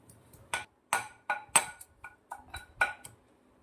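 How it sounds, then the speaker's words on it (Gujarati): Ginger pounded in a metal mortar, rendered as a run of about ten bright clanking strikes in an uneven rhythm, close and fairly clear with no talk. "હું આવી રીતના ખાંડનીના અંદર ખાંડી દઈશ"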